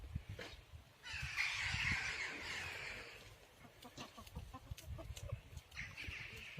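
Village chickens cluck and call close by in an open outdoor garden, with scattered short bird sounds and a rustling background.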